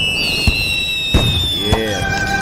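Exploder item blowing up in the video game Little Inferno, heard as a few sharp firework-like bangs and crackles spread over a couple of seconds over a steady background tone.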